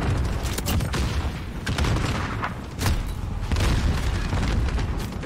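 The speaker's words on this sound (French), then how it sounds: "Quand tu touches un ennemi, ça explose beaucoup plus rapidement" Explosive crossbow bolts detonating in Modern Warfare, a dense run of heavy booms and crackling blasts layered over continuous battle noise, loud and close with no speech.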